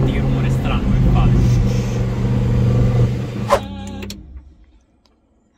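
A Lamborghini, sitting very low, making an odd mechanical noise with a steady engine rumble and whirring, a sharp clunk near the end, then falling quiet; someone talks over it.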